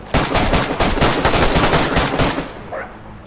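Rapid gunfire from the survival video game DayZ rattles off in a dense, loud burst for about two and a half seconds, then tapers into quieter trailing shots and noise.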